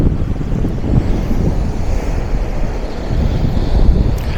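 Waves wash and splash steadily close by against a jetty at Sandbanks on the English coast, mixed with gusty wind rumbling across the microphone; no voices.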